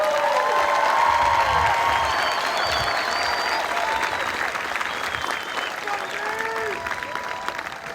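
Sustained applause and cheering from a large audience at an Air Force basic military training graduation ceremony for new airmen, loud and continuous, with scattered shouts and voices rising over the clapping.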